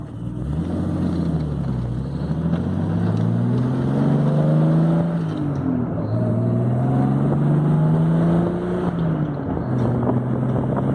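A 1970 Triumph TR6 engine drones steadily with rising and falling pitch as it shifts and accelerates on a country road, accompanied by constant road and wind noise, no voices.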